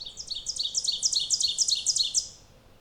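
A male Ovenbird singing loudly, a rapid series of repeated bright two-part chirping phrases rising in volume, close and clear, then ending abruptly with quiet after.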